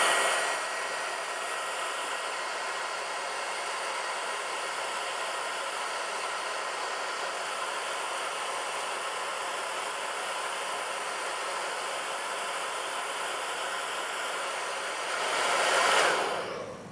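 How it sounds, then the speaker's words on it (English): A hair dryer blows steadily on a scratch in the paint of a BMW iX electric SUV, a continuous close whooshing hiss that runs for about fifteen seconds before briefly swelling and stopping. "and then the hairdryer action."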